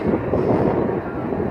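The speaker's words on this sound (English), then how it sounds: "So there we go, guys. There's a train." A train passes outdoors in a flooded area, a broad steady rumble with wind buffeting the microphone, fairly loud and continuous throughout.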